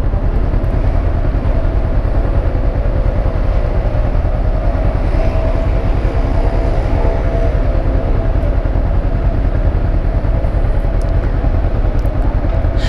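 Honda CB500X motorcycle riding through city traffic in Jaboatão dos Guararapes, with a steady, close engine drone and road rumble that runs without a break.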